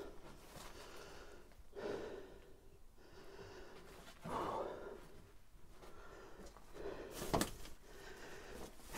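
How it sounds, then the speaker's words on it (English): Heavy breathing after physical exertion while exploring a hoarder's stolen-car graveyard: close, loud snorting breaths and gasps come in uneven bursts over a steady background hiss. "Excuse my breathing, guys."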